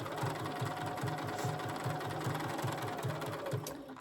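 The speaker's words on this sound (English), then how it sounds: "I'm just going to stitch around." A sewing machine stitches around a fabric penguin gift card holder, running steadily with a fast, even mechanical chatter of the needle, close and continuous for the whole stretch with no talk.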